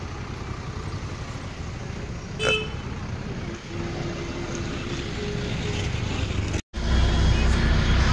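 A bus pulls up amid road traffic on the route to Omkareshwar, with a steady engine rumble, a brief horn toot early on and passing vehicle noise, recorded fairly close.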